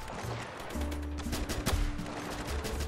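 Gunfire from a weapon in the battle simulator game Ravenfield, a few sharp shots cracking over a steady low in-game rumble at moderate distance, with no talking.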